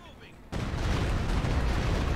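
Machine gun fire in the Company of Heroes 2 World War II strategy game bursts in abruptly after a quiet half second, then continues as a loud, sustained rattle of rapid shots with heavy low rumble.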